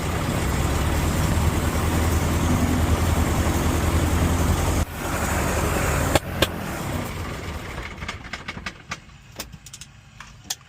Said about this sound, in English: Got a little bit of backfiring.